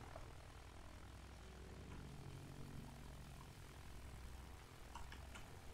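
Distant propeller aircraft engines of World War I planes in Battlefield 1 drone and hum steadily at low volume, with faint battle noises near the end and no talking.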